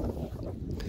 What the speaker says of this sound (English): you can hear from yourselves, it was quite windy